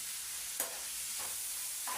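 Onions sautéing in a pan, a quiet steady sizzle broken by three soft stirring scrapes.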